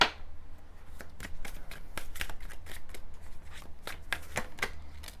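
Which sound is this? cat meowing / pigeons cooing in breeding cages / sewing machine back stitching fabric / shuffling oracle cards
shuffling oracle cards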